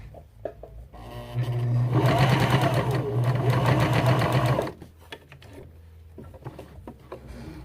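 A Janome HD3000 sewing machine stitches through a doubled layer of thin leather in one loud, steady run of about three seconds, its rapid mechanical chatter rising abruptly and cutting off cleanly, with quieter handling noises before and after.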